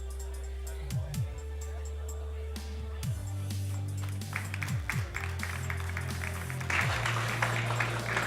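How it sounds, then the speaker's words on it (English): Crowd applause and scattered cheering at an indoor wind tunnel freestyle flying competition, over a steady low drone and repeated whooshing passes, growing fuller toward the end. "Nice round of applause for everybody watching the action there, Ray"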